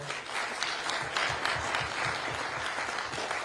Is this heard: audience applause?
yes